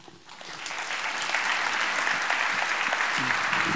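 An audience at a French conference plenary session on payment solutions breaks into applause that swells within the first second and then holds as a dense, even, sustained clapping from a large room.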